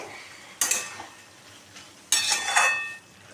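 Ivy gourd and potato stir-fried with spices in a pan, two distinct bursts of scraping and sizzling as the mix is turned, with quieter frying in between.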